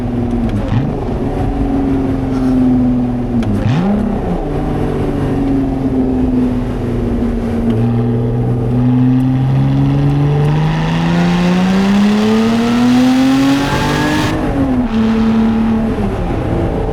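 A Lotus sports car's V6 engine accelerates through a mountain drive in the Alps, its loud, steady drone rising in pitch as it revs, easing off briefly, then climbing again before settling back.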